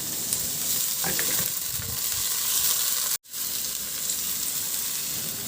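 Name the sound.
sauteing garlic and onion in a pan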